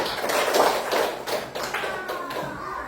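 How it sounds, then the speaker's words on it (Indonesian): A classroom of children claps hands together in a brief, uneven burst of sharp taps, close by and moderately loud, with a teacher's voice faintly mixed in. "Tepuk tangan dulu untuk semuanya ya"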